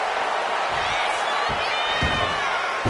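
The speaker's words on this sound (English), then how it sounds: "The crowd is fired up." A wrestling arena crowd in the WWE 2K26 video game cheers in a steady, loud roar with a few thuds from the ring. A commentator talks over it.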